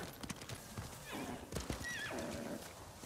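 A horse in the video game Ghost of Tsushima neighs with a loud excited whinny amid rhythmic hoofbeat clip-clops, fairly close.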